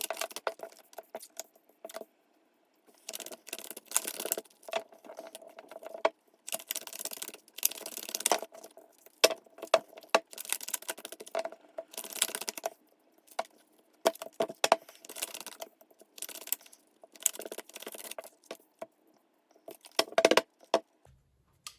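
Tarot cards are laid out one by one into a nine-card spread, giving repeated soft slaps, flicks and slides of card on card in uneven bursts, close by with no talking.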